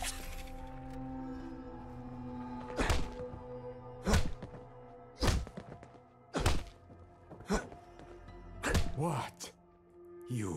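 Punches landing in a Fallout 4 fist fight: a series of heavy, sharp thuds spaced irregularly, some in quick pairs, over a low background hum, with a voice briefly audible at the start.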